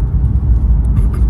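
A BMW M2 Competition rolls along with a low, steady engine and road rumble heard from inside the cabin, loud and close, with no talk during the brief moment.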